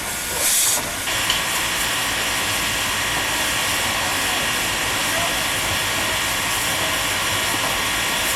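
A big Chinese QJ class steam locomotive releases a loud, close, sustained hiss of steam that begins with a short, sharper burst and then holds steady to the end.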